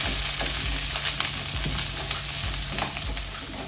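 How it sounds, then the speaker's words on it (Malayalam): Sliced onions sauté in hot oil with ginger, garlic and green chili for a chicken curry. The sizzle is loud and constant, with scraping stirs of a spoon against the pan throughout. "ഈ ഇഞ്ചിയിലും വെളുത്തുള്ളിയിലും പച്ചമുളകിലോട്ടും ഇടത്തരം 2 സവാള അരിഞ്ഞതേ അതിട്ട് കൊടുക്കാം"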